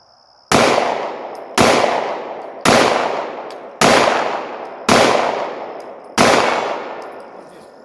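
Six loud, evenly spaced gunshots from a SIG 320 pistol at an outdoor shooting range, each sharp crack ringing out with a decaying tail, about a second apart with no talking.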